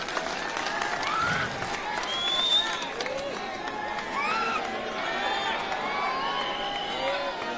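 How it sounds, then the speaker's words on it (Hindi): Crowd applause and cheering at a political rally in Ahmedabad, a steady wash of distant clapping and crowd noise running throughout under voices. "जोरदार तालियों से खान साहब का स्वागत किया जाए।"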